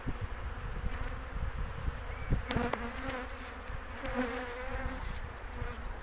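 Honey bees fly around their hives on a warm day, a dense, continuous buzzing drone from many insects nearby with a few faint bumps and passing tones.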